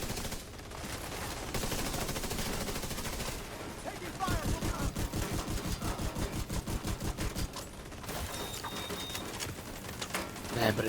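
Gunfire in The Division 2, a rapid automatic burst with evenly spaced sharp shots in the middle, surrounded by rumbling combat noise, all fairly quiet beneath someone talking.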